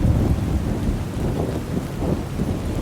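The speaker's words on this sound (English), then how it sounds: "We need to get out of this rain." A thunderstorm in a dramatic audio production brings heavy rain and low thunder rumble in a dense, steady roar, loud and enveloping, with no voices.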